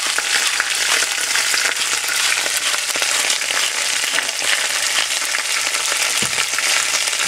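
Potatoes frying in a hot pan for simmered short ribs, a dense, steady sizzle that carries loud and close throughout, with no talk.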